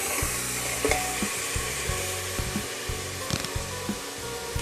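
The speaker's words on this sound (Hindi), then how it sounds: "और इसको अच्छे से हम फ्राई कर लेंगे।" Mutton pieces fry in a pot for aloo gosht, giving a steady hissing sizzle broken by regular stirring scrapes and clinks as the meat is turned.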